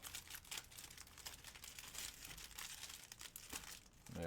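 Baseball trading cards from a box break are shuffled by hand, giving a soft, steady crinkling and riffling rustle that runs for several seconds at low volume, close by, with no talk.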